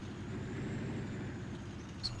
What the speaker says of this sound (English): it sounds like it's about to throw a rod out through the side of the engine block